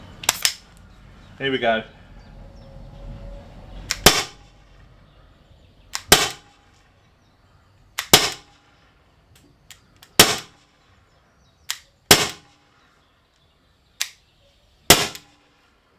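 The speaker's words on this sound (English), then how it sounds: "let's go and fire it through the chronograph" An HDR.50 pistol is fired through a chronograph: a series of sharp, close pops at roughly two-second intervals, each short and snappy, with brief talk at the start.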